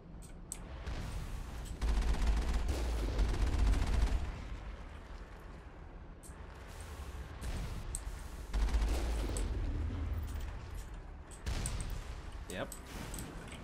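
Gunfire against a turret in the video game Mass Effect on Therum, heavy bursts of shooting with booming impacts that rise and fall in several waves, while a voice talks over parts of it.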